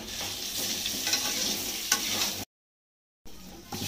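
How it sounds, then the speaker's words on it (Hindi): Potatoes seasoned with turmeric and salt fry slowly over low heat, a continuous soft sizzle mixed with stirring scrapes, broken by a brief moment of silence before the frying sound resumes. "इसमें हल्दी और नमक मिला दिए हैं और अच्छे से इसको हम भूजेंगे, लाल करेंगे धीमी आंच में"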